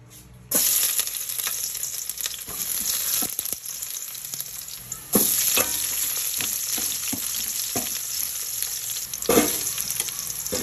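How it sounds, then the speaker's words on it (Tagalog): Oil heats in a pan for chicken tinola, giving a close, steady crackling sizzle that starts abruptly and continues, with a louder surge midway and occasional stirring scrapes, without any talking. "Just heat the pan. I add the oil."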